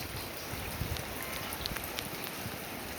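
Heavy storm rain pours steadily over a flooded rural home and rice field, a dense, even hiss with no talk.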